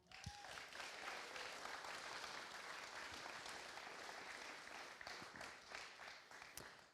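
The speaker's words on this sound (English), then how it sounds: "So I just want to give them a round of applause again." Sustained applause from an audience at a live charity boxing weigh-in, steady dense clapping running evenly throughout with a few sharper claps near the end.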